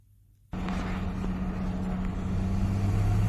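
A BMW with a fixed fault code on a test drive: after a brief silence, a steady interior engine and road hum sets in and keeps going, smooth and moderate in loudness.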